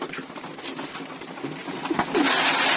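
Pigeons kept in a loft coo in low, soft bursts amid a busy rustling background, with a louder brighter noise rising toward the end.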